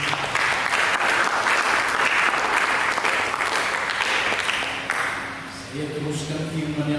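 A church congregation at an Indonesian sermon gives a sustained round of applause, dense, loud clapping that fades after about five seconds while a voice starts speaking over the tail.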